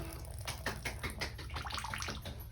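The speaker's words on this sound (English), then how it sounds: "And the water turned on and off." Water runs from a bathroom faucet with a Moen 1222 cartridge, splashing into a sink in several short bursts as the tap is turned on and off, moderately close and without talk.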